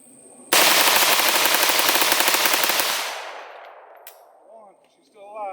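A KS47/AR47 rifle in 7.62x39 fires a long, rapid string of loud, close shots for about two and a half seconds, then the echo fades and a voice follows.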